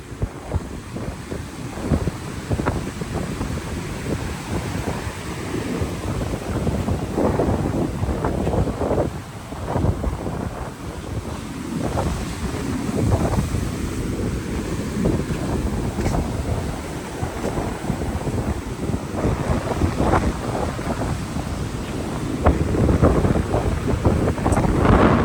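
Strong wind buffets the microphone beside a cyclone-damaged jetty wall in Antique, Philippines. A loud, continuous low rumble swells in gusts from start to finish, with no talking.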